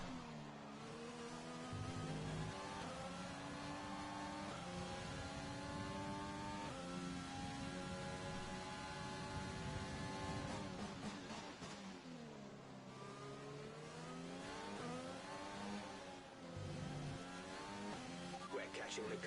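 An F1 2020 race car engine in the game, droning and revving with rising and falling pitch through gear changes and corners, loud and continuous throughout.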